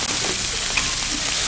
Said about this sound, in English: And then you stir the rice.